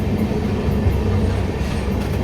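Rumbling rail noise of the Amrit Bharat Express rolling slowly into Salem Junction on the main line, a steady low drone of wheels and carriage with faint clatter, heard from inside the train without talk.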